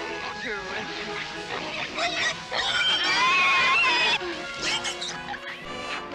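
Pigs grunting and squealing among farmyard commotion in a 1978 TV movie, with a crash-like burst midway, people speaking over the animals, and shrill calls rising and falling throughout.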